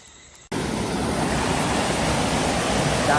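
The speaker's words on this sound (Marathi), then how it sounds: "पाणी नुसता पाणी." Steady rushing water flows loudly and continuously, starting abruptly after a brief quiet moment, a broad wash of noise like a stream or channel where people are trying to catch fish.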